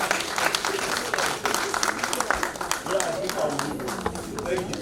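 An audience claps at an International Women's Day ceremony, a busy, continuous patter of many hands at moderate loudness with crowd murmur and voices mixed in.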